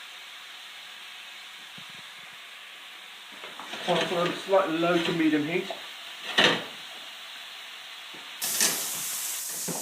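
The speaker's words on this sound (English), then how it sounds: "I'm just going to turn the heat down a little bit, just to kind of let it sizzle gently." Dal base of tomatoes, ginger, garlic and chilli frying gently in a pan over low to medium heat, a soft steady sizzle with stirring bursts midway while a person speaks over it.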